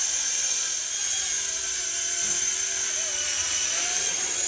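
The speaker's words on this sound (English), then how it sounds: "a fixed pitch 4-channel helicopter like this is pretty darn good." A Xieda 9958 fixed-pitch four-channel micro RC helicopter flies nearby, its small motor and rotors giving a steady high-pitched whine that holds constant throughout with slight shifts in tone.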